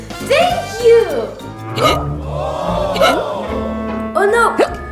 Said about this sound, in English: Oh no, I can't run with hiccups.